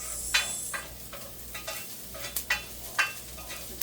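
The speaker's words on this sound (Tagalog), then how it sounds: "giniginisa ko muna yung mga sangkap, katulad ng luya, bawang at saka sibuyas" Ginger, garlic and onion sautéed in a pan as the base for pork sinigang, a quiet background sizzle broken by a series of sharp spatula scrapes and clinks in an irregular rhythm, fairly close.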